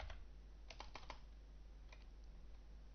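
Typing on a computer keyboard: a few quick bursts of soft clicking keystrokes, heard close and quiet against a faint background hum.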